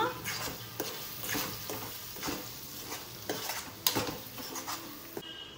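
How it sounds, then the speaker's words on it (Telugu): Vangi bath, brinjal rice, being stirred with spice powder in a pan: steady scraping and stirring strokes with a soft sizzle underneath, close and fairly quiet. "మంచిగా మిక్స్ చేసుకుంటున్నా"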